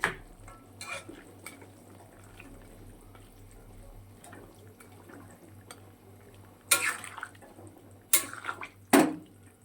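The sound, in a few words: fried fish and pointed gourd added to fish curry in pan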